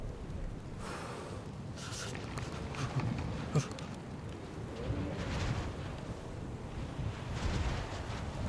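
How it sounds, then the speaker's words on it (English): Wind gusting steadily across an outdoor scene in the survival game DayZ, a broad rushing roar that swells and eases over several seconds, carried along alone with no talk. "wind might put this fire out too."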